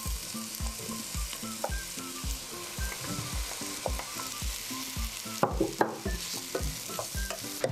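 Onions sizzle and fry in a pot of fruit and vegetable soup along with apples and potatoes, a steady close hiss broken by regular scraping stirs, with no voices.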